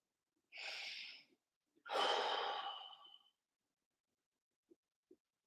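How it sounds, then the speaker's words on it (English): Two slow, deliberate breaths close to the ear, each a soft drawn-in inhale followed by a long, sighing exhale, then quiet with a couple of faint clicks. "So it's the breathing"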